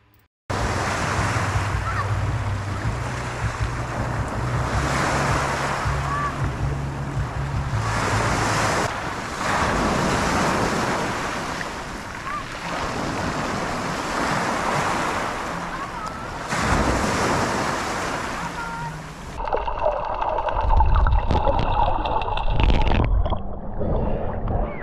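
Sea waves wash steadily onto a clear-water beach in the Philippines, with surges rolling in and out under heavy wind buffeting the microphone, and a burst of louder rustling near the end.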